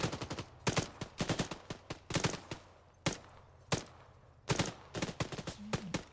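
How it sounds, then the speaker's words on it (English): Repeated weapon fire from the video game Antistasi, including a 40mm grenade launcher, sounds as sharp, close bursts and single shots in irregular clusters, with brief quiet gaps between volleys. "40mm launcher"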